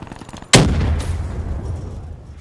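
Gunfire from the video game Call of Duty Black Ops III, a team deathmatch round: one sharp, loud shot bursts in suddenly after a quiet moment, followed by a second crack and a long, rumbling decay.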